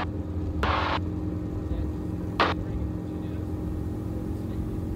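A gyroplane engine drones steadily at low pitch as power is added and the rotor spins up, heard from the cockpit with two brief bursts of a voice over the engine.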